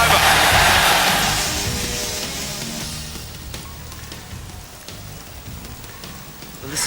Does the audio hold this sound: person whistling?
no